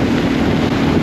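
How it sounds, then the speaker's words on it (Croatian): Strong wind rushing past a motorbike at highway speed, a loud continuous low roar with wind buffeting the microphone throughout the short stretch, no voices. "počinje vjetar je strašno jak"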